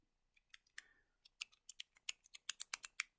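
A Vgod mech mod vape's push button being pressed over and over, making crisp, sharp clicks that speed up into a quick run of taps. It is close and quiet against a silent background.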